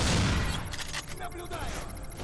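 A secret gun fires in rapid bursts in the video game Black, crackling shots and impacts rattling over the game's background noise while a voice talks over the action.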